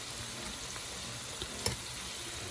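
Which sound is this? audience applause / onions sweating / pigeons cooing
onions sweating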